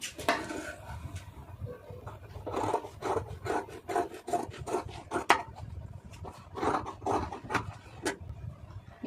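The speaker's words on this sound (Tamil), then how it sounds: "அதை அப்படியே கட் பண்ணி எடுத்துருவோம்" Scissors snipping through blouse fabric along marked lines in a tailoring session, giving a run of quick rasping cuts in short irregular bursts, close and moderately loud with no talk.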